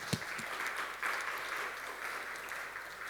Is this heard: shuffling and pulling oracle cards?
no